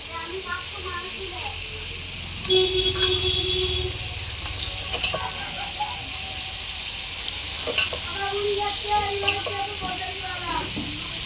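Chicken sautés with spice masala in a pan, giving a continuous moderate sizzle with stirring scrapes and clinks, while a voice talks intermittently over the cooking.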